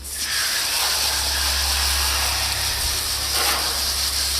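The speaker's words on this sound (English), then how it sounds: "take your garden hose, put it on the jet stream spray" A steady, forceful hiss of water from a garden hose on jet spray, washing down a heating and cooling unit, loud and continuous, with a low hum underneath.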